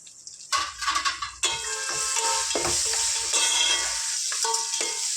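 Nellore fish curry masala fries in a pan with curry leaves added: two loud bursts of sizzle at the start, then a strong, steady frying hiss with light stirring scrapes, close, with no talking.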